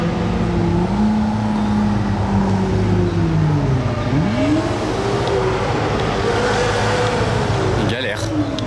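A car with a manual V12 gearbox struggling through Monaco streets during the F1 Grand Prix, its engine note rising and falling as it labours in low gears, loud and close amid crowd noise and people talking.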